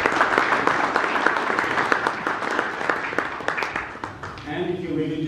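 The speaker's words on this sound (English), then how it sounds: "I'd also like to ask for a round of applause for all the volunteers" An audience at a tech bootcamp keynote in Toronto applauds the volunteers, with a thick spread of clapping that fades after about four seconds. A voice then begins speaking over the last of it.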